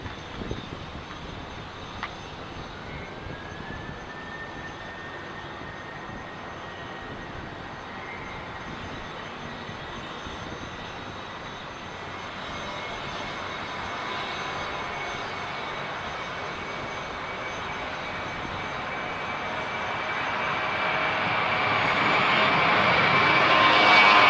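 An Airbus airliner taking off from runway 20, its jet engines holding a steady whine and roar that swells steadily louder toward the end as the aircraft powers up, with no voices.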